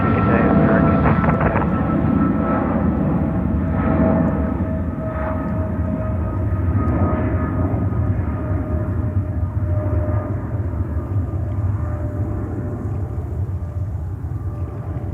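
A jet airliner powers up for takeoff on runway 13 right at JFK Airport in New York, a broad steady engine roar holding loud throughout, with a radio voice from air traffic control heard over it.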